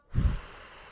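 A single long, breathy exhale pushed out through the mouth, starting with a soft rush and trailing off gradually. No talking.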